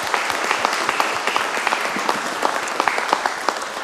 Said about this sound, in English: Can we give a huge round of applause to our 12 presenters?